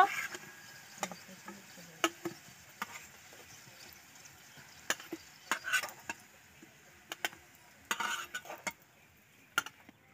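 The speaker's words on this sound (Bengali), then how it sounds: "বাকিগুলো এইভাবে ভেজে নেব" A pan of children's tiffin snacks fries quietly in the background while a utensil taps and clinks against the pan in scattered, irregular knocks.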